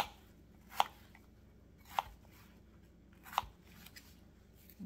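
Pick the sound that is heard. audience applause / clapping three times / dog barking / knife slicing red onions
knife slicing red onions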